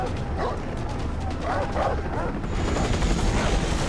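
Dogs bark and yip in quick bursts during a chase in the video game Far Cry 3, set against busy game noise with a voice briefly speaking.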